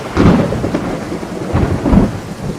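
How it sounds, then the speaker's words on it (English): Heavy rain and strong wind lash the outdoors in a storm, rumbling gusts surging in two strong waves over a constant rushing downpour, loud and close. "It's like hurricane winds out there. It's raining."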